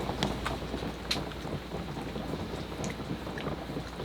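Rain pattering around a small boat on the Small Boat Channel to Parry Sound, Georgian Bay, a soft, steady hiss with scattered drops and light wind, fairly faint and distant.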